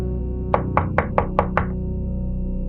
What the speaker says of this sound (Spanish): el padre Daniel se acercó y llamó a su puerta